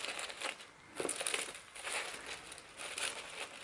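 Crinkling and rustling of Chanel perfume packaging being unwrapped, a soft, close, irregular crackle in small bursts across a few seconds with no talking.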